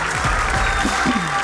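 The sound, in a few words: audience applauding Grig and Zara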